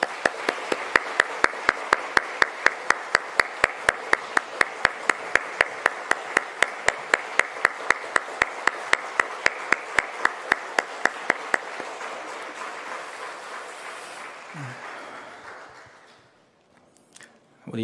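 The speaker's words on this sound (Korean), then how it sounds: "다시 한번 박수하겠습니다." A church congregation in Gwangju claps together at a family dawn prayer service, a long run of crisp, evenly spaced rhythmic claps in unison that fades out near the end, followed by a brief quiet tail.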